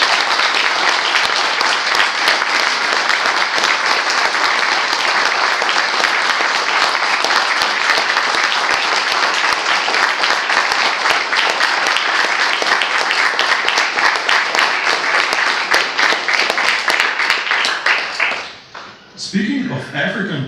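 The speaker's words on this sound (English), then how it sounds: "We hope that this applause will convey some of our gratitude to all of them" Sustained audience applause thanking people for their service at the close of a lecture on Hieronymus, a dense steady wash of many hands clapping for about eighteen seconds before thinning out near the end.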